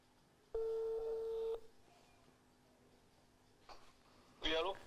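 A telephone tone rings steadily on the line for about a second, a single sustained electronic tone, followed by faint clicks and a brief burst of a voice near the end.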